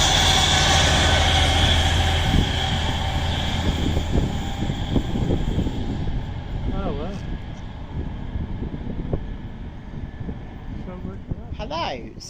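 Locomotive heading toward Reading train care depot, its engine a steady loud drone that slowly fades as it moves away, with a person talking over the fading rumble.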